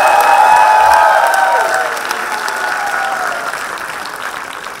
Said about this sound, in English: Let's have some applause so we can hear it.